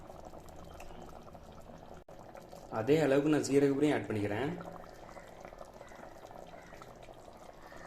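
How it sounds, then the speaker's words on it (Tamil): Chicken gravy seasoned with pepper and cumin bubbles in a pot, a short burst of loud boiling and sizzling in the middle while someone talks over it. "ஆட் பண்ணிட்டு நல்லாவே கொதிக்க விடுவோம் ஒரு 2 நிமிஷம்."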